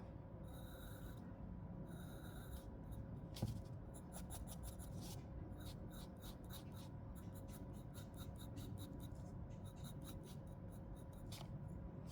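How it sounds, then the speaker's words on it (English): Drawing cylinders by hand on paper as beginner practice, with quiet rhythmic pencil strokes and scratchy hatching in repeated bursts, close and faint with no talking. "I want to draw some more."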